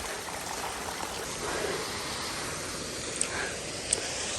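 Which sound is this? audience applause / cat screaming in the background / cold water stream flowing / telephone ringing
cold water stream flowing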